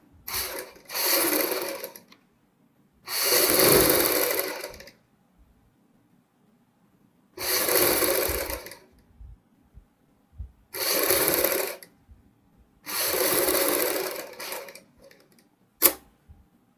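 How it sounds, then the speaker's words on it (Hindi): Short bursts of a sewing machine stitching buckram onto a kurti neckline, five separate runs of a second or two each with quiet pauses between, close and fairly loud, ending with a single sharp click. "बुकरम के साथ साथ हम सिलाई लगाएंगे"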